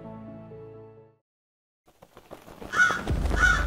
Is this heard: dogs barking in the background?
no